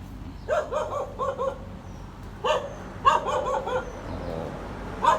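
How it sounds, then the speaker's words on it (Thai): A dog barks repeatedly outdoors in Bangkok on an overcast, drizzly day, several short bursts of barks at moderate distance separated by brief pauses over a quiet background. "เริ่ม เสียง หมาเห่าด้วย"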